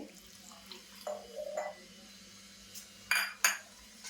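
Chopped black jaggery stirred with water in a pot, with soft scraping and a few sharp clinks of a spoon against the vessel, faint and intermittent over a low steady hum.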